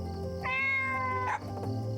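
A cat character in the video game Living The Good Life gives a single clear, drawn-out meow, close and prominent over a soft game background.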